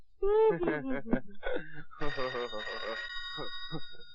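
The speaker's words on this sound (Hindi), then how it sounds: "चलो फोन उठाओ।" A phone's ringtone melody plays while voices talk over it, the ringing rising and falling in short musical phrases.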